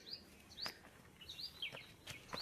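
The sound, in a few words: birds chirping on Yeoor Hills, Thane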